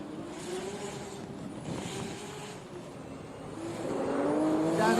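A drift car engine roars at a South East Asia Drift Series race, Round 7, a steady mid-distance drone that swells louder and higher toward the end.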